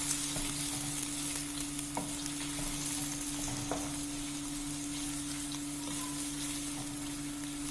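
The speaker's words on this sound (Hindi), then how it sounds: "अब हम इसमें डालेंगे प्याज। इसको मीडियम आंच पे आपने जो है फ्राई करना है" Onions sizzle steadily in a hot pan over medium heat with occasional stirring scrapes, a constant close crackle and a faint background hum, no talking.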